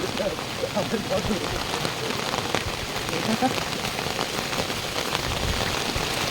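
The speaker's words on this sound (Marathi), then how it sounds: "संध्याकाळ होत आले आणि जोरात पाऊस चालू झाला" Heavy monsoon rain pours down at dusk on a trek near the Naikwadi waterfalls in Kolhapur, a dense, steady patter and hiss of drops striking surfaces close by, with some faint voice underneath.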